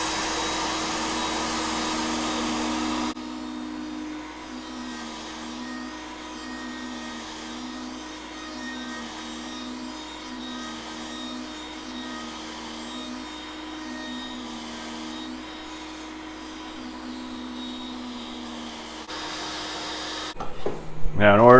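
A woodworking router cuts wood for a gift card holder, starting with a loud, harsh burst, then settling into a steady whine with a rhythmic warble as the bit moves through the piece, before ending in a clattering flurry.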